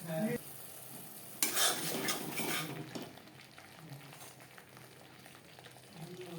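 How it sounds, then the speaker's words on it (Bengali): Spice masala frying in oil in a pan while being stirred for okra curry, a steady sizzle with scraping spoon strokes, louder bursts early then settling into a softer continuous fry. "মশলা বেশ ভালো করে কষিয়ে নেব"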